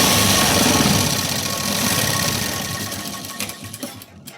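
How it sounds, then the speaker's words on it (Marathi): A sewing machine runs steadily while stitching the sleeve of a blouse, its fast even chatter close and loud, then it slows and stutters to a stop near the end. "इथे पाहू शकता दोन्हीकडे मी शिलाई दिली."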